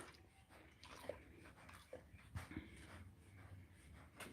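A dog at a zoo house breathes heavily in close, faint, irregular puffs, with small chewing or mouthing noises over a steady background hiss.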